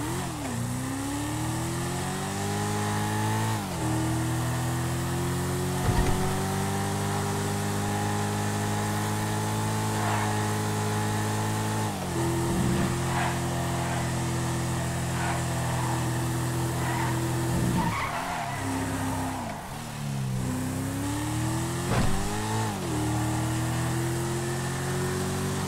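Jester sports car engine revving and shifting through gears during a video game test drive, a loud continuous drone rising and dropping with each gear change, with brief tire squeals, no talking.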